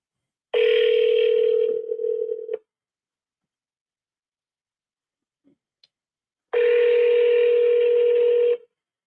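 Telephone dial tone with a steady buzzing hum, two bursts of about two seconds each separated by near-silence with a couple of faint clicks, heard while placing a cold call.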